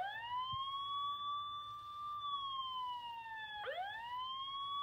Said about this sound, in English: Siren 1.